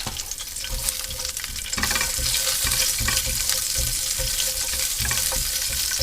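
Asparagus spears dropped into about two tablespoons of hot oil in a pan at a campsite set up a loud, steady sizzle and crackle that rises sharply and holds for several seconds, with no talking.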